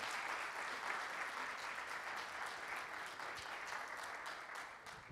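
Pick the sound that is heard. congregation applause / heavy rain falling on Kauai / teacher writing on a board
congregation applause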